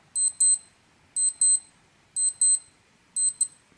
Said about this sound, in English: let's just let you hear the alarm sound.